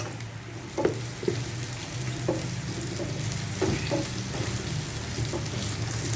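Onion sizzles and fries steadily in a hot pan while green beans cook, a close, continuous crackling hiss broken by a few stirring scrapes, with no talking.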